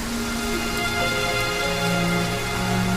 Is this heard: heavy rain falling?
yes